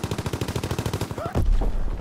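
Rapid automatic gunfire in a WW2 video game, a steady burst of evenly spaced shots for over a second, then a heavier, louder blast-like rumble takes over.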